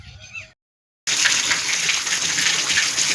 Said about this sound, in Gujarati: આપણે કુંડીનું સાફ સફાઈ કરી દીધી છે, પાણી ચાલુ કરી દીધું છે